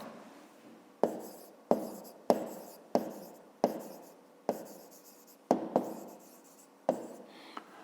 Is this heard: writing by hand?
yes